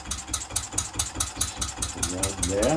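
A mini model true diesel engine runs under load on its flywheel, close by, giving a quick, steady, rhythmic chugging that swells slightly near the end while someone briefly speaks over it.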